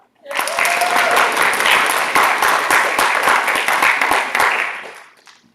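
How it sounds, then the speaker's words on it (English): A church congregation at Oakdale United Methodist Church claps together to begin the offering, loud, close and continuous applause rising quickly and fading out at the end. "Clapping to begin the offering, celebrating our ability to give."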